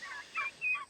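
Young turkeys about seven weeks old, raised on an organic pasture farm, give three short gobbling calls in quick succession, faint and some distance away.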